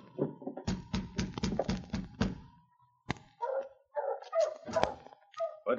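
A dog barks in a quick run of close, loud woofs outside a door, followed by scattered yips and whimpering sounds after a sharp thump.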